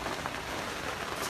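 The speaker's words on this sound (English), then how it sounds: "you can hear it is raining" Steady rain falls outdoors near a parked car, a broadband hiss with scattered drop patter, fairly soft and continuous, with no voices.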